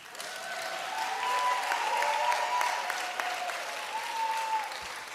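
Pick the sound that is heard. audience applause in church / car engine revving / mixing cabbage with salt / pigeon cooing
audience applause in church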